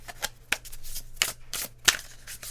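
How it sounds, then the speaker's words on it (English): Tarot cards being shuffled by hand, a series of crisp papery riffles and flicks in irregular bursts, close and fairly loud with no talking. "My cards stopped shuffling."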